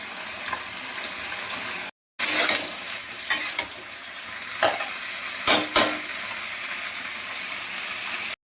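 Gourd stems and shrimp for chachchari fry loudly in a pan, a continuous sizzle broken by several scraping stirs of a spatula, with a brief silent gap near the start.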